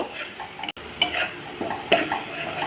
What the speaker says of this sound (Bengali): এবার আমি একটা ডিম দিয়ে বেশ ভালোভাবে মশলার সঙ্গে কষিয়ে নেব